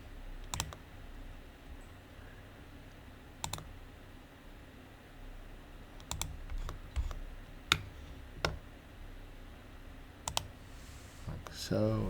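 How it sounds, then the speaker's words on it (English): Scattered key presses on a computer keyboard during CAD drawing work, a dozen or so sharp single clicks spaced irregularly over low background noise, with a brief burst of clicks near the end. "Hit the L on the keyboard."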